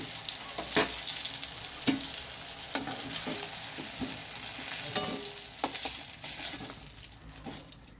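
Eggplant sizzles in hot mustard oil while a utensil stirs and scrapes the pan now and then, close and steady, no voices.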